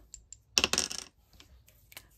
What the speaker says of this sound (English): So we're going to roll one dice.